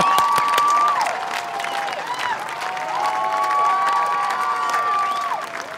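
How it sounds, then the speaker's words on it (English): A crowd at the Lewis & Clark Community College 2022 commencement ceremony keeps up sustained applause, dense and steady, with cheering and long, sliding whistles rising over the clapping. "Let's keep that applause going a little bit longer,"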